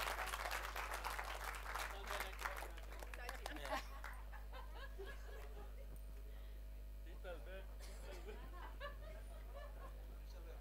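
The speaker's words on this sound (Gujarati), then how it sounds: "વૈભવભાઈ અને શીતલબેન માટે ખાસ તાળીઓ" Applause from an audience at a sitar fusion performance, a burst of clapping over the first few seconds that thins into scattered claps, chuckles and murmuring crowd chatter.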